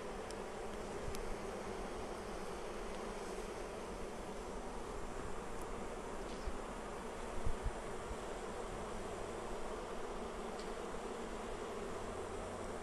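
Honeybees buzz steadily around an open Flow Hive as frames are moved between boxes, a dense continuous hum close by with faint knocks and rustles and no talking.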